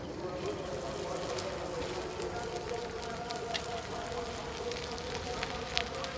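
A rice sandesh mixture frying in hot ghee on a tawa gives off a steady, even crackling sizzle that continues throughout at a moderate level, with a few sharper pops near the end.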